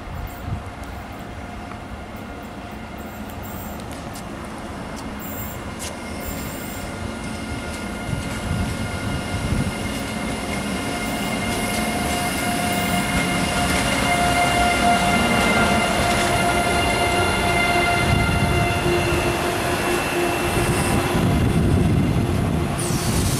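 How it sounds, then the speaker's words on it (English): A RENFE Alvia intercity train rumbles along the rails in Spain, a continuous rolling roar that swells gradually louder over time, with faint rhythmic clatter and no talk. "This is one of RENFE's Alvia intercity trains."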